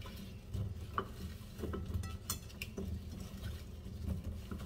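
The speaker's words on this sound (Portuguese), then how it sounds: "nós vamos mexer isso aqui." Seasoned potatoes with black pepper and paprika being mixed by hand in a bowl, giving a steady, soft, close rustling and squelching with a few light knocks against the dish.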